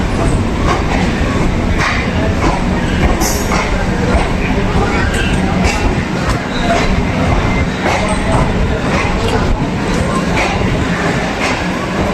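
Barasat local train pulling out of Sealdah station, a loud, steady rail rumble with clattering wheels and occasional sharp clanks, voices murmuring underneath.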